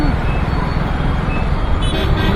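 Dense street traffic in the rain during a Vinayaka Chavithi idol market, a loud continuous roar of engines and road noise with a faint horn toot near the end.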